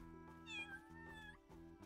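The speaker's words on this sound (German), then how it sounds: "Man hört wirklich die Katzen." Muffled cats meowing from inside the King Slime in the video game Alchemist: The Potion Monger, a drawn-out plaintive meow over a droning musical backdrop, faint and with no talking.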